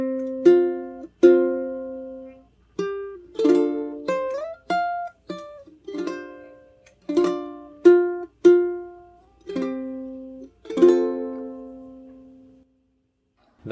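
Slow, sparse ukulele notes of the Japanese song Akatonbo plucked one at a time with gentle strums mixed in, each ringing out and decaying before the next, ending in silence.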